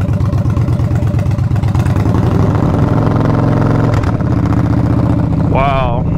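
A loud motorcycle engine runs close by with a steady, rumbling throb that holds throughout, ending with a brief rising whine.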